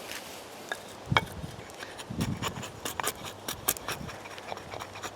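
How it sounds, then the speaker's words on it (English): Sharp, irregular chopping knocks as an axe carves lime wood, with scraping in between, close and fairly loud. "do the heavy lifting work with my axe now"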